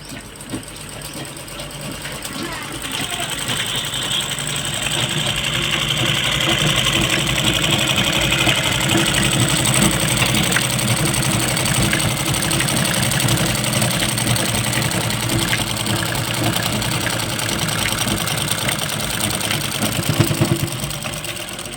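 A sewing machine turns steadily for about twenty seconds as its wheel rotates. It makes a continuous mechanical whir with a constant rhythm, close and fairly loud, with no talking over it.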